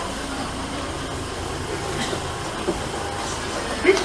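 A London Underground train running on the rails between Finchley Road and Holborn, heard from inside as a steady, loud rumble and hiss with a couple of faint clicks and squeaks near the end.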